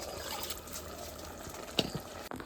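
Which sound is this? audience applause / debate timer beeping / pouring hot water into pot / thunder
pouring hot water into pot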